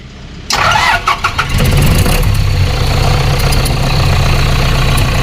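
An Isuzu 4BG1 diesel generator engine cranks and catches, then settles into a loud, steady close-up running rumble with no belt fitted, and no voices are heard.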